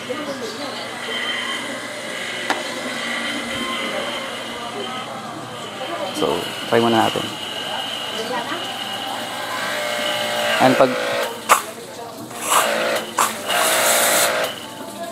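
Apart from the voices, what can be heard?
cheap heavy-duty pressure washer running for motorcycle car wash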